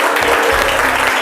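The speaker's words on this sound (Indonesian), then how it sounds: "Oke, tepuk tangan dulu kita semua." A classroom of schoolchildren bursts into brief, loud, dense clapping that lasts just over a second, with a faint murmur of voices underneath.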